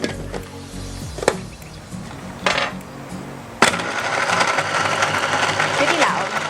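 A kitchen blender whirs into motion blending a homemade frappe with vanilla extract, after a few knocks and clatters; the motor then roars steadily and loudly close by while someone talks.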